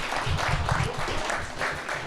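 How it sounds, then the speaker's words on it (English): An audience at a live stand-up comedy show in Berlin, New Jersey claps steadily, a dense, even round of applause that stays fairly loud throughout, with no one talking over it. "give yourselves a nice round of applause for coming to Berlin"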